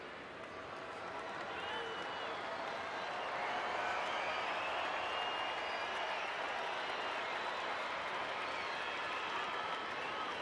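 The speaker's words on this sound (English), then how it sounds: "Crowd making some noise for Zack" A baseball stadium crowd at a Giants–Angels game in Los Angeles cheers and applauds for a batter, a dense, steady roar that swells after a few seconds and holds loud and continuous.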